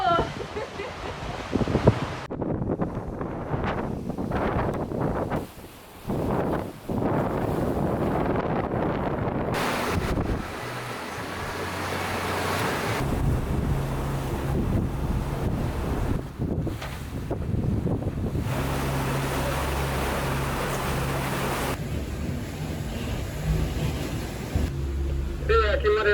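Sailboat under way on the open ocean, with steady heavy wind buffeting the microphone and rushing water and waves along the hull, continuous and loud throughout.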